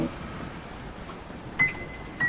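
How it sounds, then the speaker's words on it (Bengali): Heavy night rain at a railway station in a Bengali horror cartoon hisses steadily and evenly, with two brief faint tonal blips near the end. "একসাথে এক ঝলক বাতাস এসে বৃষ্টিটা আরো বাড়িয়ে দেয়"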